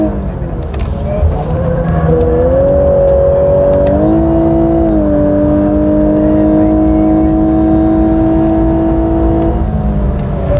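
A Lexus LC500 coupe's engine drones loudly on a race circuit, heard from inside the cabin with pitch stepping up through gears and then holding a sustained high-rev tone; a voice is briefly present.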